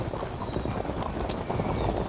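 Horse hooves clip-clop in a quick, continuous patter from a Field of Glory 2 medieval battle game, steady and moderately close with no speech.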